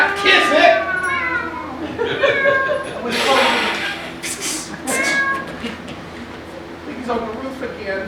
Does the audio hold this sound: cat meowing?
yes